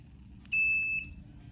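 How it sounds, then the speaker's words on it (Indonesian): A buzzer alarm on an ESP32 home-automation project, set off by an MQ2 gas sensor, gives one loud, steady electronic beep of about half a second, close by, over a low background hum. "alarm dari buzzer"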